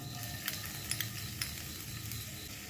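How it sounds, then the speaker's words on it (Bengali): Chopped garlic and ginger frying in oil over a low flame make a steady, soft sizzle, with a few light clicks from stirring. "আদা রসুনটা লো ফ্লেমে এক মিনিট ভেজে নেব"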